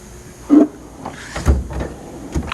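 Tool box drawers sliding open and shut in a garage, three short scraping clunks spaced about a second apart, close and moderately loud.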